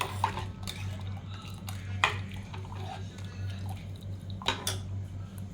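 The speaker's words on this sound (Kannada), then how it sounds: "ದಾಲಿಗೆ ಮಿಕ್ಸ್ ಮಾಡ್ತಾ ಇದ್ದೀನಿ ಇದನ್ನೆಲ್ಲ ಮಿಕ್ಸ್ ಮಾಡ್ಕೊಳ್ಳಿ" Utensil stirring ingredients into cooked dal for rasam in a pot, with light clinks and scrapes of metal against the vessel recurring irregularly over a steady low hum, close and moderate.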